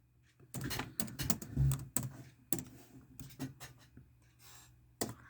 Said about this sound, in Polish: wpisujecie w przeglądarkę